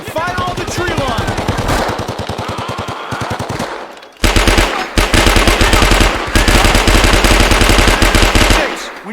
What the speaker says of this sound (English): Get some cover and fire on the tree line.